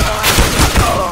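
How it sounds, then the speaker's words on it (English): A flashbang grenade goes off in CS:GO during a bot practice match, mixed into a dense, continuous stretch of game gunfire and thuds with no clear isolated bang. "Throwing a flashbang!"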